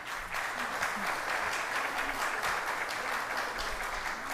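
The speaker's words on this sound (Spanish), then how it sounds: "lo recibimos también con un fuerte aplauso" Steady applause from a conference audience in Costa Rica welcoming a speaker onto the stage at a digital transformation panel, dense, even clapping holding for the whole stretch.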